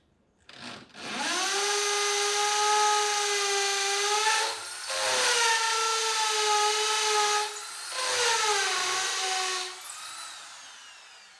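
A power drill bores holes into concrete for wooden window frames, three sustained whining runs with pitch sagging under load, separated by short pauses, close and loud with no talk.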